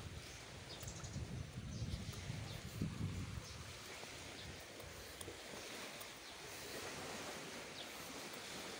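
Waves break and wash along a seashore, a broad, steady roar with a heavier surge in the first few seconds, recorded faintly with some wind buffeting the microphone.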